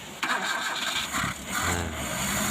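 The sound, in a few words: motorcycle engine being started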